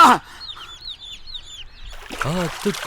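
Repeated high chirping peeps from chicks in a steady run, followed by a louder clucking call from a nearby hen.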